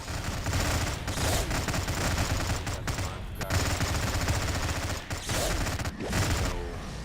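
Rapid, sustained mortar and gunfire barrage in a Stargate video game, dense and loud throughout with brief dips between volleys.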